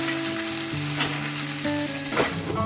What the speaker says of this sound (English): So we are just pan sealing the steak because we want it to be really done.